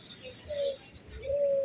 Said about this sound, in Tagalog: Mga ibon, mga maliliit na ibon naman dito.